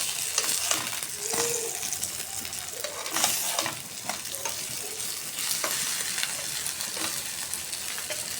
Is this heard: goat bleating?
no